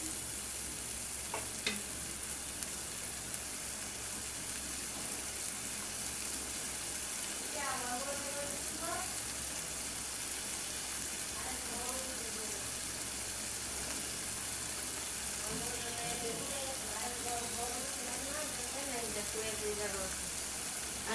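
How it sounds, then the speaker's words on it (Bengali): Spiced masala frying and being roasted in a pan for egg korma gives a steady, close sizzle with stirring scrapes throughout, and a voice talks over parts of it. "মশলা এখন আমি ভালো করে বাজা বাজা করবো একটু কষাই নেব ভালো করে"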